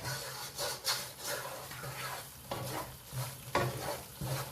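Halwa stirred in a pan with a spoon, repeated scraping strokes in an uneven rhythm over a soft sizzle, close and fairly quiet, with no speech.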